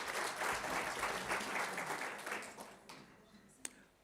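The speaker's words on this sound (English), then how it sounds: "Can we give them a round of applause?" Inauguration audience applauding in a full burst of many hands that swells, then thins and fades out toward the end, leaving a near-quiet room with one sharp knock.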